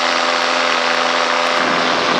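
A small aircraft engine idling a little low before launch in high air density, a loud, steady, close-up drone with a constant buzzing tone and no talking.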